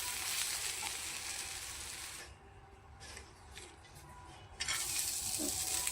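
Dry coconut roasts in oil in a pan with a steady sizzle and hiss, while being cooked for a mutton curry. The sizzle dips briefly in the middle, then comes back louder.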